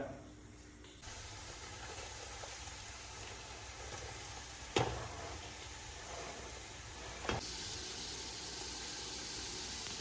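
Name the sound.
onions frying in hot coconut oil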